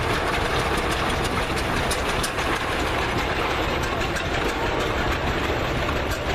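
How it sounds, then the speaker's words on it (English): A 1918 Case tractor engine runs loud and close during a parade, a dense continuous rumbling chug with no talk over it. "That's an interesting tractor."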